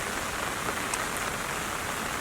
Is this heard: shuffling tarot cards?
no